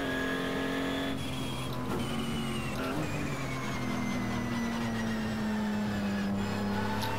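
A race car engine drones steadily through practice qualifying laps in a racing video game, a loud continuous tone that slowly falls in pitch with brief shifts, and no one talks over it.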